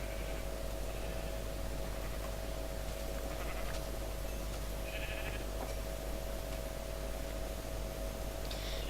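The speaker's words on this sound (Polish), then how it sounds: "Ale dużo owiec." Sheep bleat in a modded video game, several short bleats scattered over a constant hiss of static and a steady tone, fairly faint and with no talking.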